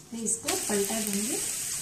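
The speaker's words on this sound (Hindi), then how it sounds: "इसको पलटा देंगे," Methi thepla, a Gujarati Kathiawadi flatbread, sizzles in oil on a griddle just after being flipped, a steady close hiss with a brief voice over it.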